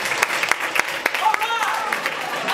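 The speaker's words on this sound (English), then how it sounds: "let's give a big round of applause for Emperor Khan." Scattered applause and individual claps from a comedy show audience for a contestant, sharp distinct hand claps with a brief whistle-like tone partway through, fairly sparse rather than a full roar.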